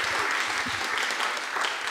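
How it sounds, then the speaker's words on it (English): An audience at a feminism talk applauding, a dense burst of clapping from many hands that stays loud and steady throughout. "So, please, a big round of applause for Sofia."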